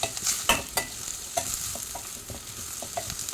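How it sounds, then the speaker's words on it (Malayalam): Onions are stirred into ginger garlic paste frying in a pan for fried rice, a constant sizzle broken by repeated clinks and scrapes of the spoon, close by with no talking. "അതിൻ്റെ പച്ചമണമൊക്കെ ഒന്ന് മാറിയതിന് ശേഷം നമ്മുടെ സവാള അതിലേക്ക് എടുത്തിടാം"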